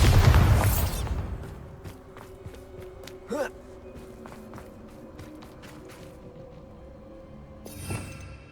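A Bombarda spell blast in Hogwarts Legacy bursts loud and full at the start, then decays into a quieter game soundscape with scattered light impacts and a second swell near the end.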